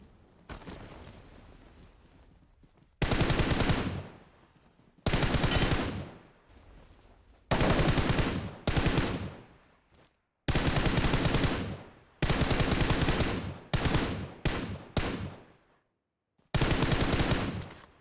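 Automatic gunfire in the mobile battle-royale game PUBG Mobile: loud sustained bursts of rapid shots, several long strings separated by short pauses, close and dominant with no talk.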